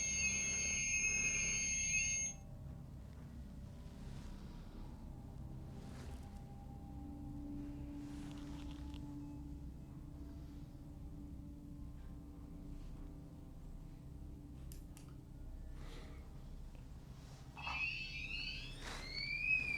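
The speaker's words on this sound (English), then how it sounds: "the red pod REM pod went off and indicated a temperature change" A REM pod ghost-hunting device sounds off with a high electronic alarm tone for about two seconds at the start and again near the end, over a quiet, humming room during a paranormal investigation.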